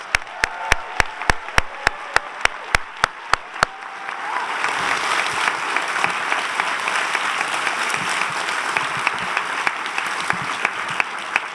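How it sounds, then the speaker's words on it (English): Audience at the Rockford Region 2026 Arts Awards applauds the creative community and nominees, a steady wash of crowd clapping that starts near the four-second mark after a run of evenly spaced sharp taps and continues to the end. "Please join me in giving one last round of applause for your Rockford Region's incredibly talented creative community and nominees for the 2026 Arts Award"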